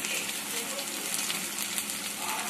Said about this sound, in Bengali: এবার আমি খুব ভালো করে এগুলোকে একটু ভেজে দিচ্ছি